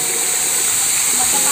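Water from a natural hot spring at Camp Silva in Calauan, Laguna rushes and splashes in a steady, loud hiss, with a voice briefly audible over it.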